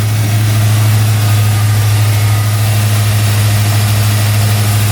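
A cold 1993 Ford Bronco V8 with a five-speed idles steadily while warming up, a loud, even low-pitched drone with a constant hum and no talking.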